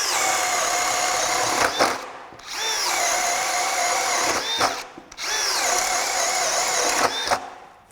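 A Craftsman brushless hammer drill, compared between the USA-made CMCD721 and the China-made CMCD731, runs in three loud close bursts of steady high whine, each spinning up and winding down with short gaps between.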